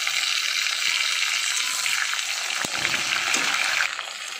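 Chopped tomato goes into a pan of onions already fried red, setting off a steady loud sizzle with a brief sharp crackle partway through.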